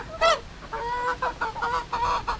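Young hens at a poultry farm call out in a short burst of clucking squawks, several birds close by with a loud first call followed by a run of steady, overlapping cackles.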